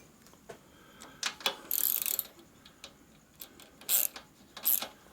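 A ratchet wrench turns the engine of a 1988 Harley-Davidson FXR motorcycle by hand, giving a few close, short clicking bursts and ratcheting sweeps with pauses between them, with no talk.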